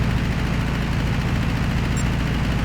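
An air-cooled Volkswagen Beetle engine in the video game Gran Turismo 5 runs with a steady, close, low throbbing drone that holds even and unbroken throughout.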